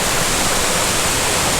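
A waterfall in Shenandoah pours in a loud, dense, unbroken roar of rushing water, with no pauses, heard from the main viewing point near a swimming hole.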